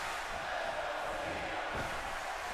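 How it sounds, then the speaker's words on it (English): Arena crowd noise in the wrestling video game WWE 2K18: a dense, steady roar of cheering that holds at an even level throughout, with no distinct voices standing out. "crowd going crazy."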